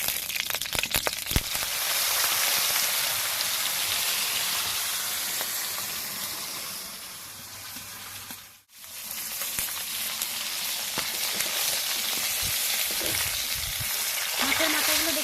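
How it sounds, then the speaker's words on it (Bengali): Hilsa fish heads rubbed with salt and turmeric fry in hot mustard oil in a wok, giving a loud, continuous crackling sizzle that dips away briefly midway before resuming at full strength. "এখন এই মাছের মাথাগুলো নুন হলুদ মেখে ভেজে নেব।"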